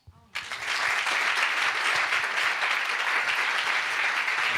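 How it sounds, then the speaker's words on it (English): An indoor audience at a political participation event breaks into sustained applause, starting abruptly and holding as a dense, even wash of clapping close by. "Please give her another round of applause."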